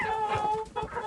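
Hens on a small farm cluck close by in a quick burst of throaty calls that fills the moment with no talking.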